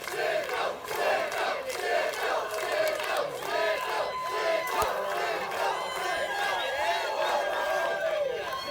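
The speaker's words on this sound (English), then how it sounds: "Quite the response here from the crowd in Atlanta" An extreme-wrestling crowd in Atlanta roars, cheering and shouting in loud overlapping waves of voices that fill the arena continuously.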